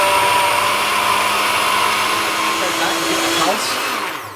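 A kitchen blender whirs loudly and steadily through an ice lolly mixture under a fitted lid, holding a constant motor roar before the pitch dips briefly near the end as the load shifts.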